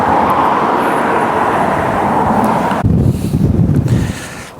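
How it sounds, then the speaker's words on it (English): Strong wind buffets the microphone in an exposed bog in a steady roar, then shifts to lower, gustier rumbling toward the end. "It's very windy here now in the bog"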